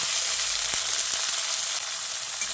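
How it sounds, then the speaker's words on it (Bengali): Chopped tomato fries with garlic and black cumin in hot oil, giving a continuous bright sizzle with a few soft knocks from a spoon stirring the pan; no talking. "এবার টমেটোটা দিয়ে ফোড়নের সঙ্গে কিছুক্ষণ নেড়ে চেড়ে মিশিয়ে নিচ্ছি"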